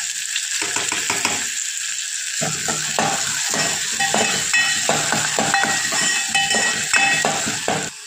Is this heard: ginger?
yes